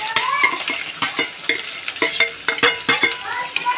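Chopped onions and green chillies sizzle loudly in hot oil for keema. A spoon stirs them in a quick, regular rhythm of scrapes and clatters close by, and no one speaks.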